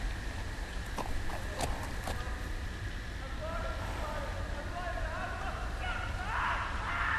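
Horse hooves clop along steadily in Telltale's Game of Thrones game, mixed with a constant background hum and occasional scattered thuds.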